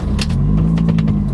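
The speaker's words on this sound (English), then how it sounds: "let's turn on the car" A 2005 Mini Cooper S John Cooper Works R53 engine starts up and settles into a loud, steady low rumble, close by with no talk.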